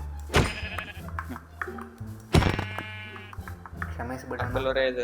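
Sheep from the video game Minecraft bleat in short, bright cries, with a loud one near the start and another midway, followed by softer bleats, all over a steady low background hum and some voice activity.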